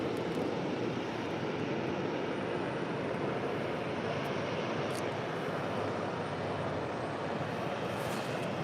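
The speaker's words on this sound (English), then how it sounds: "That is United Airlines and Star Alliance livery flight 2434 coming in from Newark of the 757-200." A United Airlines Boeing 757-200 in Star Alliance livery, arriving at LAX from Newark, produces a steady, broadband jet roar that holds at an even level throughout, with no voices present.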